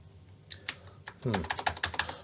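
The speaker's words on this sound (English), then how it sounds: "the keyboard works great, only I can't type because I'm sitting at the side of the machine" Typing on the keyboard of a Tandy 200 portable computer under restoration after battery leakage, a few scattered key clicks building into a quicker run of close, crisp keystrokes, with some keys needing extra pressure.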